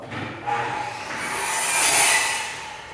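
A floor sander grinds across an 80-year-old wood floor on a first pass with coarse 36-grit paper, a broad continuous rasping hiss that swells louder as it moves closer, with no talking.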